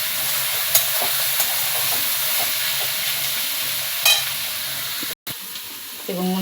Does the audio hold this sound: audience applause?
no